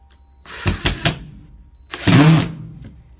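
Cordless drill driving screws into wood on an off-grid cabin addition, two close, loud bursts of whirring motor, the first broken into short pulses, the second a longer steady run.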